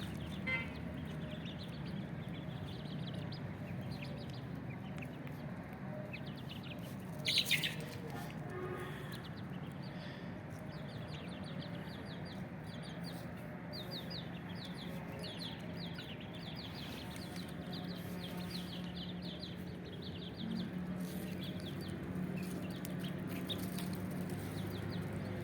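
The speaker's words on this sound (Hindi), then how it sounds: "इनमें से बेशतर मुर्गियाँ हैं।" Young Aseel chickens clucking in a chilly winter yard, soft scattered calls under someone speaking, with one brief louder squawk partway through.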